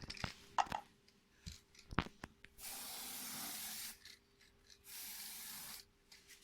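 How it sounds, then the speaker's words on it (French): Black spray paint from an aerosol can coats a box in two long, steady hissing bursts. Each lasts over a second and they are separated by a pause, with a few shaking rattles and clicks before them. "Vous prenez la bombe, vous la secouez. Et vous commencez à peindre."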